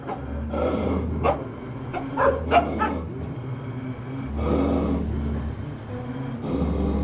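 Several wild dogs bark near a tent in a Nepal forest at night, in scattered bursts at a moderate distance, with a steady low engine-like hum underneath and intermittent pauses between the barking.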